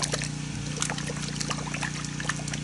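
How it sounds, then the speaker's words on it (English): A hand swishes Meguiar's Gold Class car wash shampoo through a bucket of water, giving soft, continuous trickling and sloshing with small splashes over a low steady hum. "just with a little bit of hand agitation, it is starting to create some bubbles"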